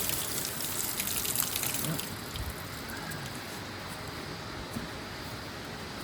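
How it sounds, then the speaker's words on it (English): Running water gushes steadily over boots being washed after hoof trimming on a cow, a constant close hiss with no pauses. "Give my boots a wash as well."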